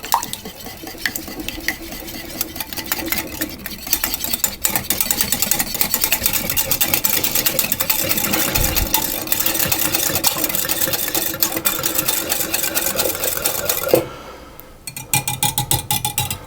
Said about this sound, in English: the oil, and the vanilla extract, and I'm going to whisk those together.